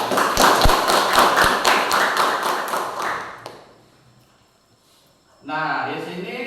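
Classroom students applauding classmates, a dense burst of group clapping for about three seconds that fades out, followed by quiet and then a teacher's voice speaking.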